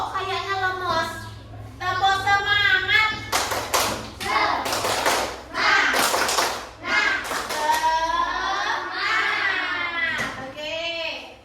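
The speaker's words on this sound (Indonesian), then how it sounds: "Tepuk semangat." A group of students chants a spirit cheer and claps in rhythm, with bursts of sharp hand claps between the sung voices.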